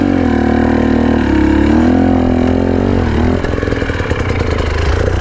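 Motorcycle engine idling loudly close by, then changing to a rougher, chugging rhythm as the bike eases away slowly from a stop, with no talk.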